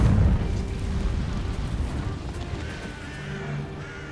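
A Confringo fire spell explodes in the game Hogwarts Legacy: a deep, rumbling boom opens the moment and then decays into a long, roiling low roar that fades slowly.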